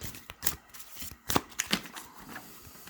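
Tarot cards being shuffled by hand for a monthly reading, giving a few quick papery riffles and flicks close up, alone without talk.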